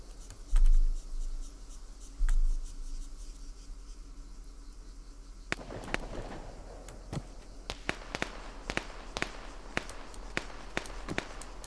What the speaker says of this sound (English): I hear shots.